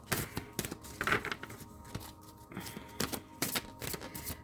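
Close tarot card shuffling, a series of quick papery riffles and flicks in irregular bursts, with light taps between them and no talking.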